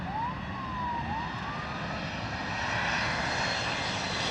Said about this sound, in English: Delta Airlines DCA Embraer E175